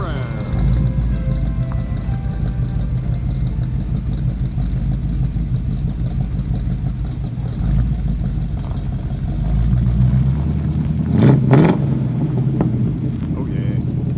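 A 1959 Chevrolet truck called Charlie Brown pulls away with a steady mid-low engine rumble that swells briefly near the end, then fades.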